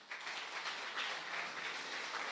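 Loud, sustained applause fills a church service, a dense crowd clapping evenly throughout without a break.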